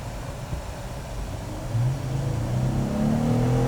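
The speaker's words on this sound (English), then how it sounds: "That's the acceleration that you're going to pick up with the new Wrangler." Jeep Wrangler JL with an 8-speed transmission accelerating hard, engine note rising in pitch and loudness through a gear change, heard from inside the cabin.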